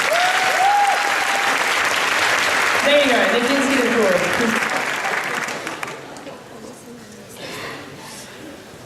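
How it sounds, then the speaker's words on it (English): Loud audience applause for Angus at an entertainment evening of a law moot competition, steady clapping that fades after about six seconds, with someone speaking briefly over it. "So if I could get a round of applause for him."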